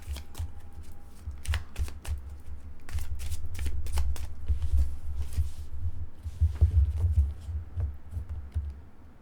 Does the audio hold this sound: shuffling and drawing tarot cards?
yes